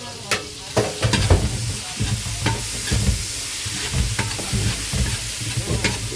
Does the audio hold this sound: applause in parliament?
no